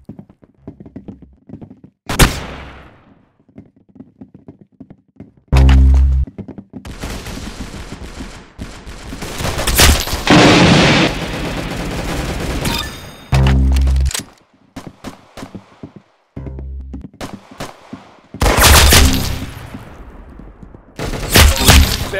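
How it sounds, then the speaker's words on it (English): Video game gunfire, with sharp single shots and short automatic bursts that crack out at irregular intervals, loud and close, separated by quieter stretches. "Very good shooting."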